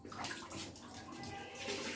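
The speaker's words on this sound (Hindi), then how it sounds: "तो हम इसके अंदर 2 किलो पानी ऐड करेंगे" Water poured into a batch of yogurt, a steady broadband splashing and gushing that runs continuously and fairly close throughout.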